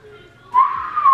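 A person whistles by sucking air in, a loud, close, thin high tone that begins halfway through, holds briefly, and wavers, following a faint airy attempt.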